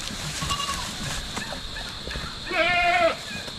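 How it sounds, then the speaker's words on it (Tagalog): A goat on a Philippine farm bleats once, loud and close, in a wavering nasal call. Quieter rustling, shuffling and faint background animal noise come before it. "Ito, magandang kambing to mga kaprobinsya."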